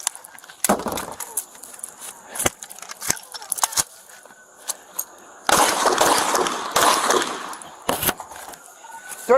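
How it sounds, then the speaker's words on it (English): Gunfire in a police shootout between a Miami-Dade sergeant and an armed suspect: sharp broadband cracks come singly and then in a dense burst near the middle. Several loud, close reports are spread across the clip, with no talk. "shots fired, shots fired"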